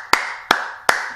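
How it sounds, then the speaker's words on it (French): Three sharp hand claps at an even, unhurried pace, close and loud, each ringing briefly before fading, with no talk. "j'applaudis"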